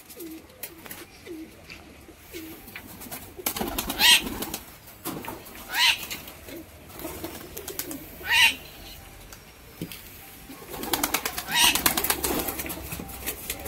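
Giribaz pigeons let go one by one, with soft cooing and several loud bursts of wing flapping as birds take off and land nearby.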